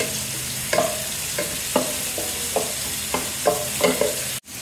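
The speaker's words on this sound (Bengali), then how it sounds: "পেঁয়াজ ভাজা হয়ে গেছে" Chopped onions fry in hot oil in a cooking pot for a bottle-gourd curry with rohu fish head, giving a steady soft sizzle. Periodic scraping stirs of a spoon against the pot punctuate it, with no talking.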